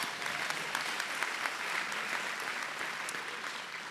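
Audience clapping steadily at a fundraising gala for the Star Center, a dense, even wash of applause lasting throughout without pause or talk.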